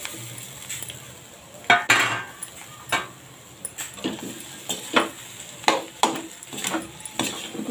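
Potatoes sautéing in a pan on a low flame, a soft sizzle punctuated by repeated scraping and clinking of a spoon against the pan at an irregular, close stirring rhythm.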